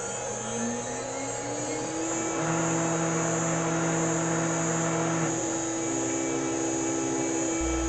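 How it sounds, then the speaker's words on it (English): Closed loop stepper motors on a CNC router's Z, X, Y1 and Y2 axes spin through a connecting rod program, giving a steady electric whine with pitch-shifting tones that rise and hold, with no talk. "The next shot shows the Z-axis, X-axis motor, and the Y1 and Y2 motors moving to the connecting rod program."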